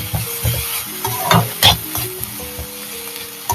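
Grated coconut is stirred into ponnanganni greens frying in a pan. A steady close sizzle runs under repeated scraping stir strokes.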